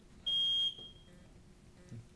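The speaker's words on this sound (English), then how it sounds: "I am being beeped off stage" A single loud electronic beep, clear and high-pitched, lasting under half a second and cutting off a storyteller on stage, followed by quiet room noise.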